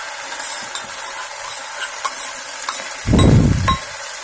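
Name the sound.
spices and vegetables frying in a pan for pasta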